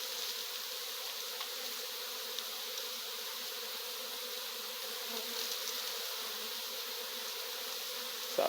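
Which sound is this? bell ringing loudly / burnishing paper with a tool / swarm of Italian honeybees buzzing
swarm of Italian honeybees buzzing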